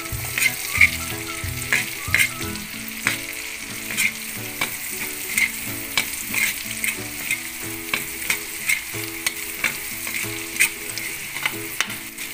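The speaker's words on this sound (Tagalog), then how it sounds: "So, sunod na po natin ang ating sibuyas." Onions frying in a pan as tomato pasta with smoked fish and garlic is cooked, a steady close sizzle broken by regular scraping stirs, with no talking.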